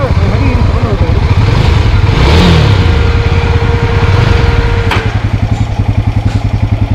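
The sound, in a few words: Yezdi Scrambler motorcycle engine faltering at idle and stalling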